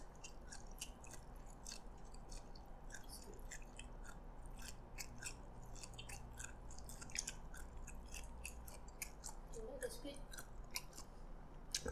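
Someone chewing Hokkien prawn noodles at close range, with rapid, repeated wet clicks and smacks over a faint steady background hum.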